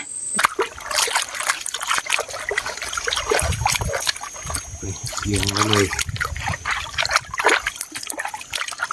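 Water trickles and splashes steadily while bamboo shoots are washed outdoors in the hills of Chiang Kham, Phayao, close and continuous, with someone talking briefly over it.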